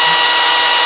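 A loud, steady high-pitched motor whine runs continuously, like a power saw revving at full speed up close: an EGO 16-inch battery chainsaw.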